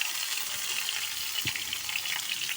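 Tomatoes frying with onions in hot oil for a masala, a steady close sizzle with a brief stirring clatter midway, no talk.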